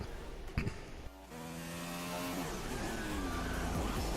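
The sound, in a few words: race car driving around Brazilian Grand Prix track in F1 video game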